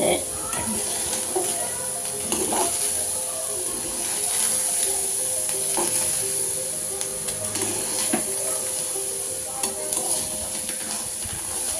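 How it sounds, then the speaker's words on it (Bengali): Boiled, drained chana dal fries in a hot kadai over a very low flame, a soft continuous sizzle with frequent spoon stirring and scraping strokes close by. "বুটের ডালটা সেদ্ধ করে জল ঝরাতে দিয়েছিলাম। এবার কড়াইটা গরম হতে দিয়েছি, এর মধ্যে দিয়ে ভেজে নেব।"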